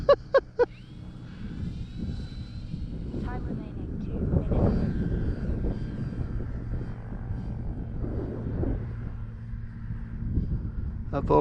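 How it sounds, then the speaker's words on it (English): Large Draco RC airplane coming in on flaps for a STOL landing, a steady engine drone running throughout at moderate level, with a few sharp clicks at the start and end and people talking over it. "Landing flaps. Yeah, you have to remember this is also a big plane."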